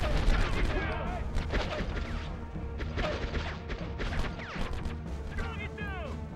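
Gunfire in Conflict: Desert Storm on PS2, a cluttered mix of sharp shots, crashes and whizzing ricochets with voices speaking through the battle noise.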